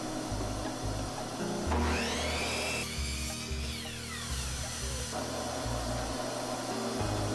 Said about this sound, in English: So getting started cutting all of our material, using a miter saw